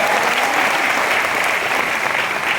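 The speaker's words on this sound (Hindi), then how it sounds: "उनके लिए भी जोरदार ताली होनी चाहिए" Loud, dense applause from a large audience at a motivational event in an auditorium, a continuous roar of many hands clapping at once, sustained evenly from start to finish.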